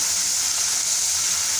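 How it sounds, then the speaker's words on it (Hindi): Pumpkin and mutton fry in a pan, giving off a steady, close sizzling hiss that holds evenly throughout without pause. "कद्दू को शामिल करके तो हम इसको अच्छे तरीके से भूनेंगे"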